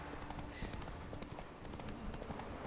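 A horse's hooves clip-clop at a steady walking rhythm while being ridden in The Witcher 3, soft and fairly quiet under a constant background hiss.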